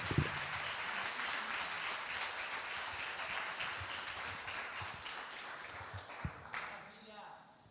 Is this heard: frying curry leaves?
no